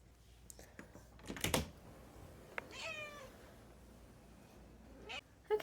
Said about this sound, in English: Someone was aggressively meowing outside the door the entire time.